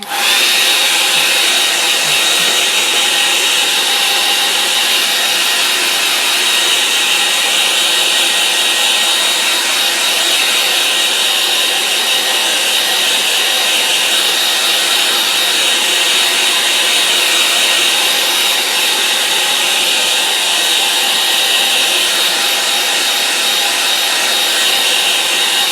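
A hair dryer blows steadily and close by for the whole stretch, drying a wet-in-wet watercolour landscape painting of a brook, a constant airy whoosh with no pauses and no talking.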